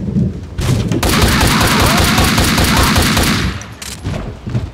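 Gunfire in Max Payne 2 erupts as a dense, loud burst of rapid automatic shots lasting a few seconds, followed by scattered single shots as it tapers off.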